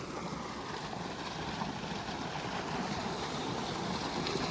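A water pump motor runs in a wheat field as a steady, fairly faint broadband rumble and hiss, with no speech over it.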